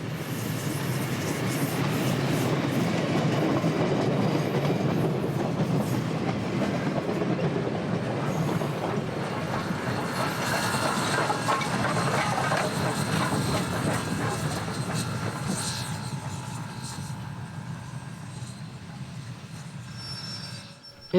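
The 112-year-old SOO Line 1003 steam locomotive and its cars roll past a rural crossing between Horicon and Burnett, Wisconsin. A loud, steady rumble of wheels clatters on the rails, then slowly fades as the train moves away.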